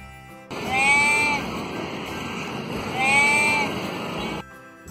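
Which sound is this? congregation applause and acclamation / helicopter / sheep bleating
sheep bleating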